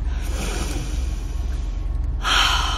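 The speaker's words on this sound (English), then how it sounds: "I'm sniffing this like a crack addict" Close, breathy sniffing at a box of Girl Scout cookies: a steady run of short nasal inhales with a sharper, louder snort-like draw near the end, with no talking.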